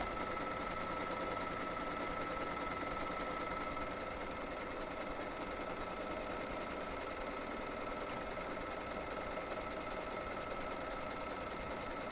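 A machine embroidery unit runs steadily at about 1,050 stitches per minute, stitching a leather patch onto a beanie, a continuous close mechanical whirring hum with a rapid needle rhythm and no talk throughout.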